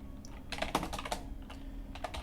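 Keys clatter on a computer keyboard during Ruby test-writing, with scattered clicks that quicken into short bursts, close-up and moderately loud, with no talking.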